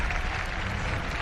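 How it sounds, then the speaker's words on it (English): A crowd claps warmly at an ultimate frisbee masters mixed gold medal match, a brief burst of dense, steady applause. "warm round of applause there for the display of spirit"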